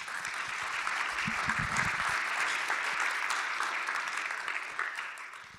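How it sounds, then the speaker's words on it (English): Sustained audience applause at a small-town pitch event, a dense steady wash of clapping hands lasting several seconds at even loudness, with no talk over it. "a round of applause for Jeremy."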